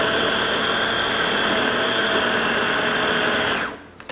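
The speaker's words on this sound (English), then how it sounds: "Put the cover back on, press it, and blend." A kitchen blender whirs steadily as it purees beets with lemon juice for beet hummus, a loud continuous motor drone that cuts off abruptly near the end, leaving brief quiet.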